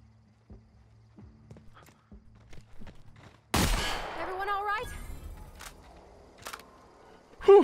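Shotgun blasts in The Outer Worlds, a sharp loud burst with ringing tail after quiet stretches of sparse clicks and taps, with further short hits and a final close blast.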